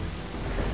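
A thunderstorm in the video game Uncharted 4 roars on without a break, with heavy rain and a low rumble of thunder filling the whole short moment loudly and close.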